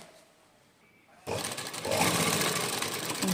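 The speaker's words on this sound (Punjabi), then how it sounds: "ਆਪਾਂ ਇੱਥੇ ਦੀ ਸਲਾਈ ਲਾ ਕੇ ਵਿਖਾਵਾਂਗੇ ਤੁਹਾਨੂੰ" A sewing machine stitches beadwork (pearl work), starting abruptly after a quiet second and then running as a steady, loud mechanical whir to the end.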